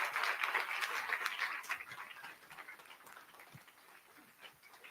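Applause from a conference audience for two speakers after a fireside chat about fueling founders, a dense patter of claps that is strongest at first and then thins and fades.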